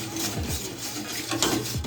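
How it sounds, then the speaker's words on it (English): Cornmeal pudding batter being whisked in a bowl for a Jamaican recipe, with a steady, busy scraping and clatter of the whisk against the bowl throughout, fairly close and without talk. "Whisk that in. So we're going to combine everything together"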